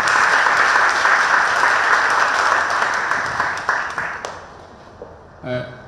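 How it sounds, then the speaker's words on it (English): Audience applause greets a hackathon team from Taiwan at a presidential hackathon event, a loud, full round of clapping that gradually thins and fades out near the end. "let's welcome the BRSDM at Erling team from Taiwan with a round of applause"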